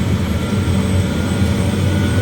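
A helicopter engine runs close by with a steady, loud roar, a low droning hum and a constant whine, without pause.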